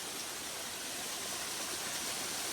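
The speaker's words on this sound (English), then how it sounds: "We got a waterfall today." Small waterfall on a hiking trail flowing unusually strong, a steady broadband rush of falling water filling the whole clip, close and even with no pauses.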